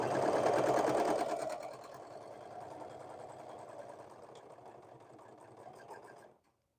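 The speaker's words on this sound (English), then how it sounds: "I may have to make myself like a mat to go under the serger. Maybe it'll absorb some of the vibration." A serger overlock sewing machine runs nearby in a fast, steady, buzzing whir, louder for the first second and a half, then continuing more softly until it stops abruptly.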